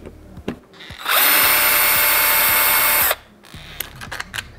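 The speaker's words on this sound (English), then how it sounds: "It's not the most powerful of drills, but it will have enough power to do most jobs around the house." A power drill spins at high speed for about two seconds while an old doorknob is being removed from a back door, loud and close, with quieter handling clicks and taps before and after.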